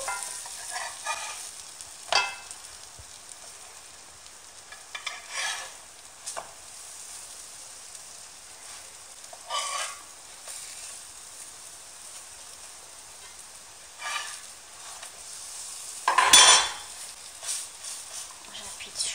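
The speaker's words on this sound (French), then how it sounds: "La cuisson se fait à feu très moyen en les retournant. Je vais les retourner." Food frying over medium heat in a non-stick pan, a faint steady sizzle broken by occasional scrapes as pieces are flipped with a utensil, with one louder burst of sizzling near the end.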